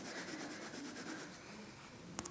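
Sharpened graphite pencil shading across paper, a soft continuous dry rubbing with gentle back-and-forth rhythm, close and quiet, ending in a small tap.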